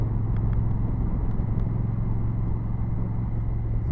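A new Honda CRF1000 Africa Twin motorcycle is ridden in sport mode at higher RPM, its engine a steady, loud, close rumble mixed with road and wind noise.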